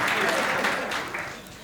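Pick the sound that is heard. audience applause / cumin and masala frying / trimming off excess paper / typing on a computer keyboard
audience applause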